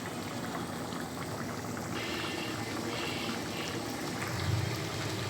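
Lentil dal (cholar dal) simmers in a pot, a steady close bubbling and soft boiling hiss continuing evenly with no voices.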